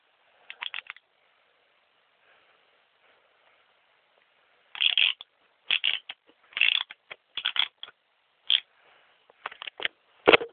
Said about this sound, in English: I'll just trim that down using the copper trimmer.